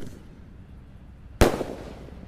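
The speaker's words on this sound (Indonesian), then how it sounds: "Oke, sudah menyala peluru Basoka Roman Candle guys." A single Roman candle firework shot bursts loudly and sharply after a quiet stretch, followed by a short crackling tail, set off outdoors among other firecrackers.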